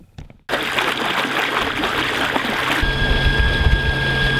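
A dinghy with a 1.5 horsepower electric outboard runs on the water, starting abruptly after a brief quiet moment into a steady whir with splashing and hiss, continuous and close.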